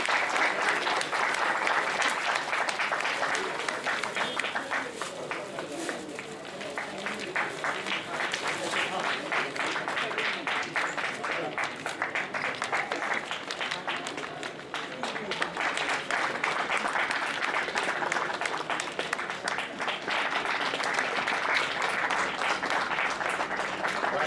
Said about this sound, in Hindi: सभी से आग्रह है कि जोरदार तालियों के साथ स्वागत करें